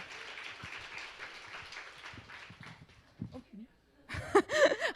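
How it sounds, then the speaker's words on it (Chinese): Applause welcoming people at a church worship service breaks out loudly in the final second, after a stretch of murmuring voices and low thumps. "我们再一次掌声欢迎他们"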